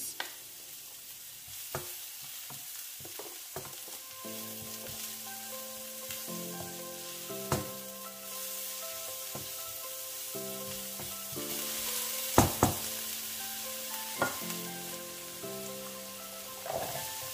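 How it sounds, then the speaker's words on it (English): Steady sizzling of grated ginger and garlic frying in a pan, with scattered clinks and scrapes of stirring throughout, no voices. "I'll also add the grated ginger and garlic. I'll be frying this for just a minute."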